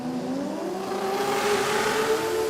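Holden Commodore race cars, LS and Barra engines, roar past at a race meeting, the engine note rising steadily as the cars approach and accelerate, moderately distant with no voices.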